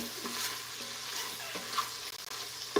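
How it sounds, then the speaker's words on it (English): Food sautéing in a pan on the stove, a steady broad sizzle running throughout with a few soft clicks and scrapes, close and moderately loud with no talking. "It calls for like 5 minutes of sauteing."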